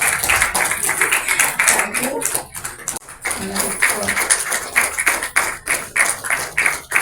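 Audience applauding at a retirement celebration, irregular bursts of clapping rising and falling across several seconds, with a brief spoken thanks over it.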